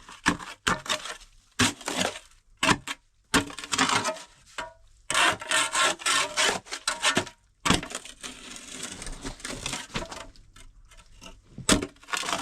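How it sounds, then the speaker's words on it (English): Drilling into soaked, collapsing ground of a water well pit, heard as loud gritty rasping and grinding bursts that start and stop irregularly, with short silent gaps between spells of close-up scraping. "So I gotta drill it in there and hopefully get it done"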